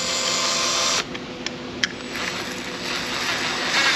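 A power drill with a small wire brush attachment runs steadily while cleaning corroded battery terminals on a Silverado or Sierra truck, a loud continuous whir that dips in level after one second, with a couple of brief scraping clicks and no talk.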